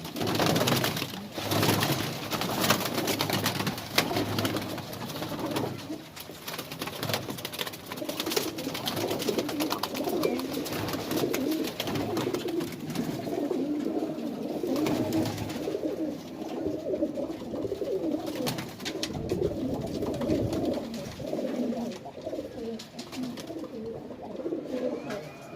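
Madrasi pigeons kept by a fancier in Ajmer, Rajasthan, coo softly and continuously, several birds layered over a steady background murmur for the whole stretch.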